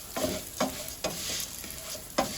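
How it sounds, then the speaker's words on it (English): Fideo noodles fry in a very hot pan, a steady sizzle broken by four sharp scraping stirs spaced about half a second to a second apart, close and clear with no talking. "So you want to fry your fideo first."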